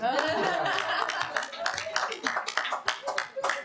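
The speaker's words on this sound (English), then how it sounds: "everybody applaud Stephen Fish" Audience in a lecture room clapping for an individual participant, a fairly dense burst of applause that thins into scattered claps, with light chuckling and talk mixed in.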